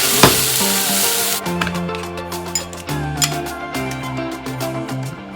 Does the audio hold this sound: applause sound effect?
no